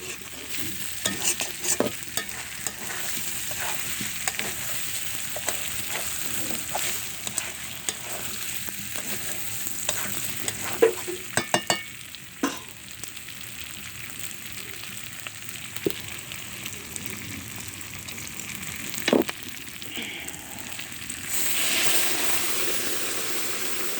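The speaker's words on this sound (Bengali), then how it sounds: "এবার আমি পরিমাণ মতো ঝোলের জল দেবো।" Hot water poured into a pan of browned goat meat curry sets off a steady sizzle and bubbling hiss, with scattered clinks and stirring scrapes, building to a louder rush of steam near the end.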